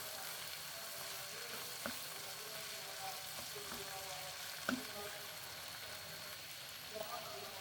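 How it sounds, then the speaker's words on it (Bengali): Meat and sausages fry in hot oil in a pan, a steady close sizzle with occasional clicks and knocks from stirring, and a quiet voice speaking. "মাংস আর হচ্ছে সসেস গুলো একটু ফ্রাই মতন করে ফেলতেছি তেলের মধ্যে আগে।"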